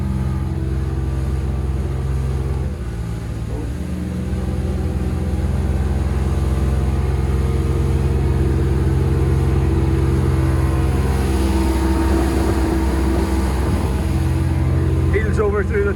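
A Trophy 1802 boat with a Mercury 115HP OptiMax outboard running at about 4,000 RPM, a steady loud droning engine hum with water rush throughout, while a person talks over it.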